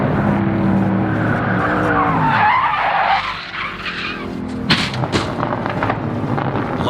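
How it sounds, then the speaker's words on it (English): A Norma M30 race car at Circuit of the Americas skids with squealing tires, then slams into the barriers with a sharp impact, followed by rattling debris and fading noise. "An unfortunate incident in the S's saw Jensen Little in his Norma M30 contact the barriers"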